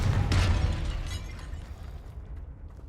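A Confringo blasting spell explodes in Hogwarts Legacy, a sharp loud burst with a booming low thud and crackling debris that rolls off and fades over a few seconds.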